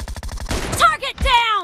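Gunfire from an M24 rifle in a shooting video game. A quick run of sharp, close reports is followed by swooping, whistling game effects that sound almost like a voice.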